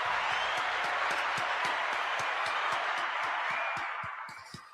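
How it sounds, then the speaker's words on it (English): A round of applause for a podcast chat, loud dense clapping throughout with sharp individual claps, fading slightly toward the end. "let's give a round of applause"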